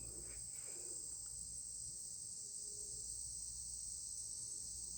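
Cicadas droning in the evening around six o'clock, a continuous high, even buzz filling the air for the whole stretch, with faint rustling and a few soft knocks nearby.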